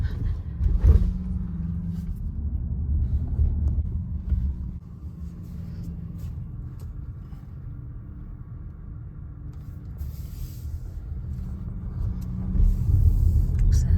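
A car pulling out of a caravan park: steady low engine and road rumble from inside the cabin, with faint clicks and a slight swell near the end, no talk.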